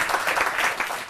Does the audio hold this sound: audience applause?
yes